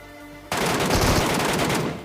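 Rapid MK14 rifle fire in the video game PUBG, a sudden loud burst of continuous shots that runs for over a second with no talking.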